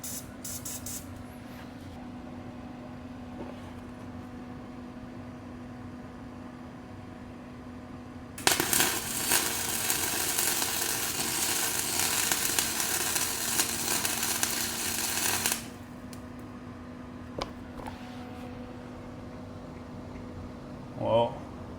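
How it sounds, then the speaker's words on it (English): Welding on a three-wheeler build gives a loud, steady crackling hiss that starts abruptly and runs for about seven seconds before cutting off, with a low hum and quiet shop noise before and after. "About to see some ugly welding."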